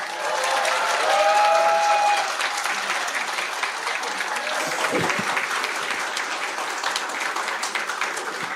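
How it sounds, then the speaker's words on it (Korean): Sustained crowd applause at a Reform Party rally for the 2025 Korean presidential election welcoming the party leader Cheon Ha-ram, dense and steady with some cheering and a few voices mixed in. "자, 큰 박수로 다시 천하람 대표 모시도록 하겠습니다"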